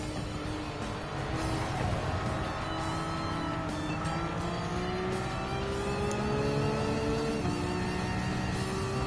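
Porsche Cup race car engine in Gran Turismo 7, racing at Circuit de Barcelona, revving loud and steady throughout with shifting pitch as it accelerates through gears, other cars audible close by, no talking.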